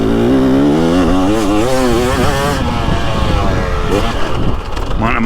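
A 2023 Husqvarna TX300 two-stroke dirt bike roars loud and close around a motocross track, its engine revving up and down in rising and falling sweeps with a brief dip near the end.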